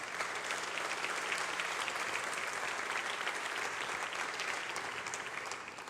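Steady applause from a panel-discussion audience, a dense wash of clapping held at an even loudness for several seconds before easing slightly at the end.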